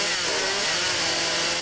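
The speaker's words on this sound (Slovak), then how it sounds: "Tak, motorová píla." A chainsaw cuts in the video game 7 Days to Die, a steady, loud, buzzing whine that runs without a break and sits up close.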